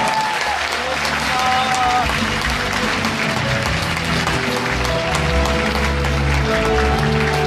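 Audience applause fills a welfare-budget rally in Busan at the close of a session, a sustained dense clapping crowd heard near, with voices and some tonal sounds mixed in underneath.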